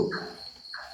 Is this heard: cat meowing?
no